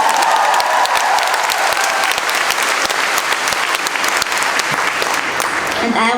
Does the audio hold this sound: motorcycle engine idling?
no